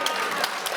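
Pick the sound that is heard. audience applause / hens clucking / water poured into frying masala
audience applause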